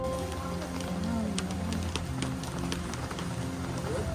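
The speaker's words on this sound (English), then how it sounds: "Raining outside and we're in the shuttle" Rain falls outside a shuttle riding up a mountain in Bali, with a steady patter of drops and sharper taps over a low engine hum inside the vehicle.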